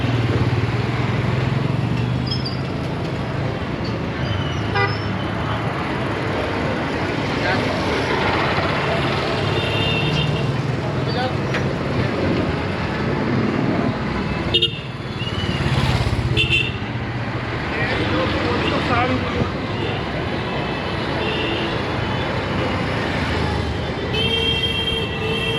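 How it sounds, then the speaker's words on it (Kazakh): Dense Delhi street traffic packed with mopeds, a constant loud drone of small engines and passing vehicles, with occasional horn toots and voices mixed in. "Мопедтар қаптап жүр ғой"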